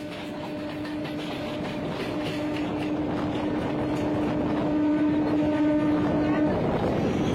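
A local train on the Sealdah to Kalyani Simanta line runs between Halisahar and Kanchrapara past Kanchrapara Workshop Gate without stopping. It gives a steady, close rumble with a high, ongoing whine over the whole stretch.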